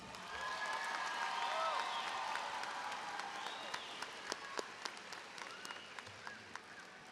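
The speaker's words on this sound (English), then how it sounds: "I think the Aiken Choir deserves another round of applause." Audience at a high school graduation ceremony applauding the choir, a broad crowd clap with some cheering that thins out toward the end, leaving scattered sharper claps.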